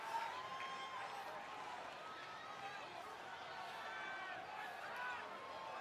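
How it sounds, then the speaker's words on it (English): Crowd noise in the wrestling game WWE 2K24, a dense steady arena murmur of chatter and faint cheering spread evenly throughout, with a person talking over it. "The crowd makes so, like, really out of pocket noises in this game."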